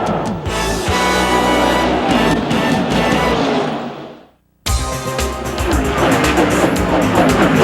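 NASCAR stock cars racing at Indianapolis Motor Speedway in the inaugural 1994 Brickyard 400, a dense loud roar of engines from the pack, briefly dropping out near the middle before the roar resumes.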